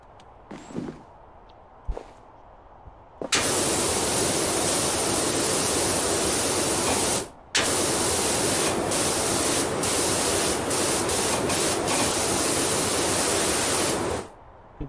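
A pressure washer in PowerWash Simulator, cleaning a carousel, blasts a loud, steady hiss of spray that runs for several seconds, breaks off briefly, then resumes until cutting out near the end, after a few short clicks.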